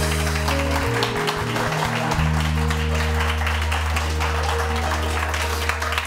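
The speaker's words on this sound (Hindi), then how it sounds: "तालियां तो बजाइए, कोई बात नहीं।" Studio audience on a live Pakistani morning TV show applauds in a dense, steady wash of clapping under a low musical drone, lasting several seconds at even loudness.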